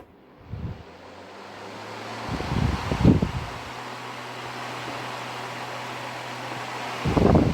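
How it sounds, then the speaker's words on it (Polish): A 1961 Zefir-3 electric fan with a 12 W motor switches on and runs, giving a steady airy whoosh with a low motor hum, punctuated by a few louder thumps and handling noises close by. "wentylator jest już gotowy, włączam zasilanie, włączam silniczek"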